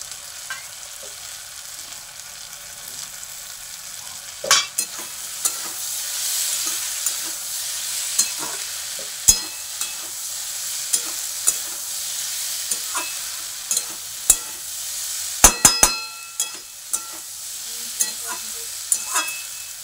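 Kalai greens fry in a pan, giving a continuous bright sizzle and hiss. A spatula stirs them now and then with distinct clacks and scrapes, loudest in a cluster about three quarters of the way through.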